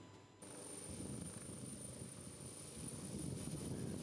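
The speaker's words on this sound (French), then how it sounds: "L'hélicoptère qui s'élève dans le ciel de Bongouanou a à son bord le couple présidentiel." Helicopter lifting off over Bongouanou, Côte d'Ivoire, carrying the presidential couple: a steady broadband rotor and engine roar that swells after a brief quieter start and holds loud and constant, with no talk.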